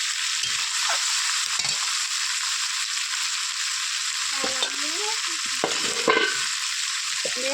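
Mutton curry for a Bengali-style kosha sizzles steadily in a pan, with occasional scraping and clinking stirs of a spoon breaking through the continuous frying hiss; no one speaks.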